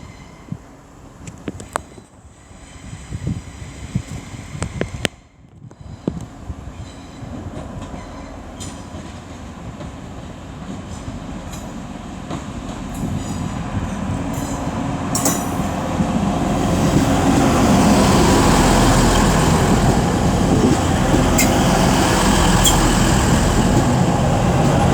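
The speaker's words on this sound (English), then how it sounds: "now approaching will be 185137, working the delayed 1350 Transpennine Express service from Cleethorpes" A Class 185 TransPennine Express diesel multiple unit on a delayed service from Cleethorpes to Liverpool Lime Street approaches a station on the West Coast Main Line, its engine and wheel noise building steadily from faint to loud and close.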